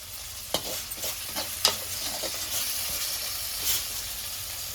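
Tomatoes and curry leaves fry in a pan in a home kitchen, giving a continuous close sizzle broken by several quick stirring scrapes and soft clicks of a utensil.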